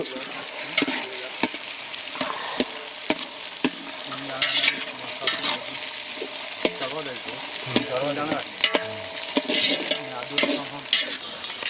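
Peas stirred and fried in a pan for khichdi cooked outdoors in the Dang forest: a loud, continuous sizzle close by, broken by frequent spoon scrapes and clicks against the pan.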